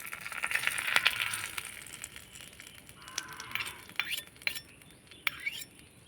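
A metal spoon scrapes and clinks against a pan while stirring a curry leaf tempering for chutney, giving soft irregular taps and brief sharper clinks at low volume with no talk.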